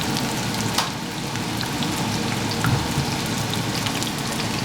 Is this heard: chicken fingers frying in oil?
yes